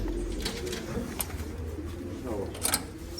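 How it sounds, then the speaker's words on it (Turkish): Pigeons coo softly and repeatedly close by, their low throaty calls over a steady murmur of background noise. "çok güzel kuşlar indirdik"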